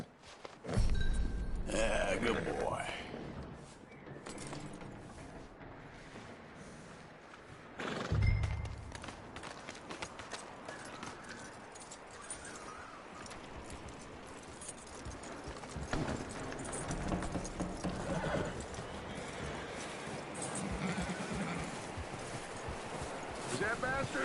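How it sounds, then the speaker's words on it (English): Hooves clip-clop steadily on hard ground close by, with a video-game horse snorting and people talking over it. "That looks like a decent horse."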